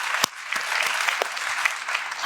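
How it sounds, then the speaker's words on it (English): An audience applauds, a steady, full wash of clapping with a few sharp louder claps standing out near the start. "Another round of applause."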